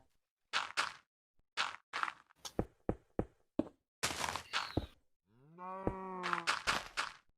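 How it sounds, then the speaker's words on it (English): Cows moo in the video game Minecraft, a single drawn-out bovine call near the end, preceded by a series of sharp knocks and thuds from the gameplay, with no talking. "I hear cows. We got cows here."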